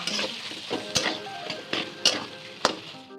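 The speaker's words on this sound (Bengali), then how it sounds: "এবার এটাকে আমি ভালো করে নাড়িয়ে দিই" Fish pieces with salt and turmeric being stirred in a pan: scraping strokes with several sharp clinks of a utensil against the pan, a soft sizzle running underneath.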